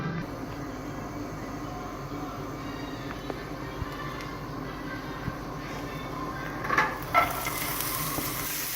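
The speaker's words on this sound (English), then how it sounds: "get our onions cooking" Onions frying in oil in a pan for Bermuda codfish cakes give a steady, even sizzle throughout, with a few brief louder crackles and clinks near the end.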